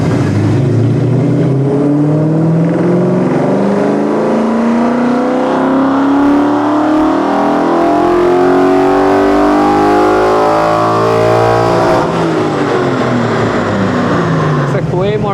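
A Mach 1 Mustang revs hard through a dyno pull, its engine note climbing steadily in pitch and staying loud and close for the whole run, then dropping off sharply near the end.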